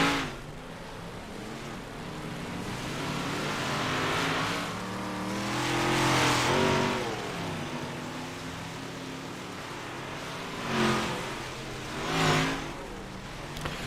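The No. 11 car, a 358 modified dirt racer at the Chili Bowl in a racing game, runs laps alone. Its engine revs rise and fall through the corners, with two sharp louder surges near the end.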